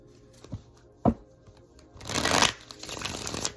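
Tarot cards being shuffled by hand: a couple of soft taps and riffles, then a longer, louder burst of rapid papery flutters and slides up close, with no talking.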